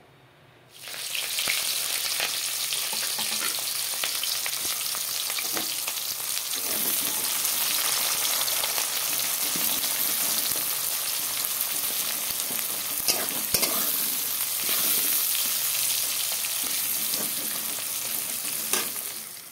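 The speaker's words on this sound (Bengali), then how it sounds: "কড়াইতে তেল দিয়ে দিলাম। এখন দিয়ে দেব পেঁয়াজ, কাঁচা লঙ্কা" Steady, loud sizzling of onion and green chili frying in hot oil, continuous crackle throughout with occasional sharper pops.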